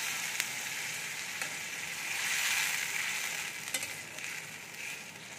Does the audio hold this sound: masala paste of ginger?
yes